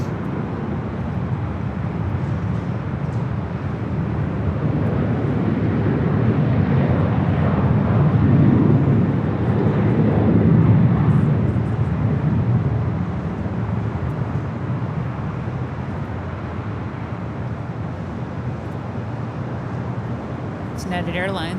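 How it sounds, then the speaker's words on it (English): A United Airlines Boeing 737-900ER takes off at LAX with a broad jet roar that swells to a peak midway, then recedes into a steady distant rumble, with voices talking over it. "United Airlines 654 heading to Houston on a 737-900ER."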